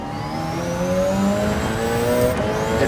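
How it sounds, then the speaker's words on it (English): A car engine runs loud and close, its tone rising and falling steadily with revving, no talking over it. "listen to this car"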